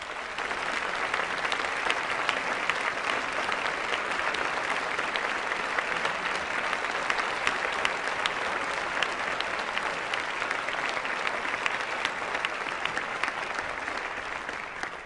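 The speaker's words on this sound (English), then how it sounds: "I'd like to give everybody a round of applause." A large audience at a 2006 Apple special event applauds the Apple staff. The sustained, even clapping runs loud and dense for about fifteen seconds, without talk over it.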